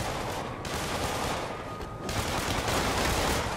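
Enemy gunfire in a Spider-Man video game: a dense, continuous burst of rapid shots roars without pause, loud and unbroken throughout, with no voices.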